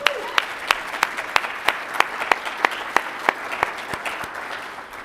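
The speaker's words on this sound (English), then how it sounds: "join me in another round of applause" A crowd claps steadily, with sharp individual claps standing out rhythmically above a dense wash of applause, moderately loud and without speech.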